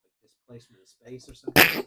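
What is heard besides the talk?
sneeze into microphone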